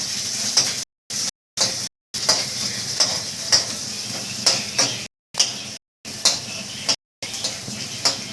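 Onions fry and sizzle in a pan, with a steady hiss broken by sharp stirring clicks and scrapes of a spoon against the pan, close and fairly loud, no talking.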